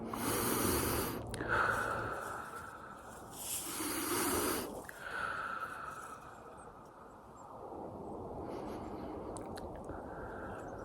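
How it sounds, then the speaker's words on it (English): Deep cleansing breaths during a guided breathing exercise: slow, airy inhales and exhales, about three long breaths with pauses between them, close and fairly quiet, with no talking. "Let's take some deep breaths, close our eyes. Nice, deep, cleansing breaths, at least 3."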